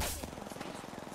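Rapid gunfire crackles in a squad battle royale video game, a fast burst of repeated shots following a loud initial blast, dense and sustained throughout the brief moment.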